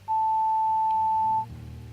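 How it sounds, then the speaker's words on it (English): A single long, pure voicemail beep in the Art of Murder video game, sounding steadily for over a second before cutting off, loud and isolated with faint low background after. "Please leave a message after the beep."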